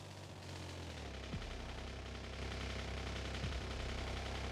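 Gun turrets in the Factorio video game fire at attacking biters in a continuous, distant rattle of automatic fire. A low rumble runs beneath it, and no one speaks.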